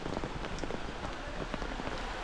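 Heavy unseasonal rain in Konkan, India pours steadily, a dense hiss of drops pattering on surfaces, loud and continuous with no talking.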